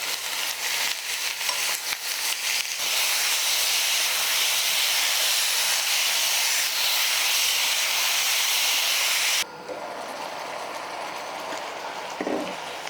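Meat sizzles and hisses loudly while frying in a hot pan for japchae, a steady steam-filled crackle that drops to a quieter simmer near the end, with no voices.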